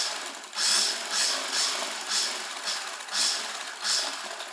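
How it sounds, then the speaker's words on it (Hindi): A sewing machine stitches a fabric strip onto a child's kurta made from leftover cloth, running in several close bursts with short pauses between them, steady and clear with no voices. "हम इस पट्टी पर सिलाई लगाएंगे"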